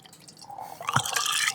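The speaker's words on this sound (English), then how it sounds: "Like now, we're going to put some water in." Plain water poured through a funnel into a homebrew fermenter while making gluten-free beer: a soft start, then a louder splashing, trickling rush that swells and continues steadily, close to the microphone.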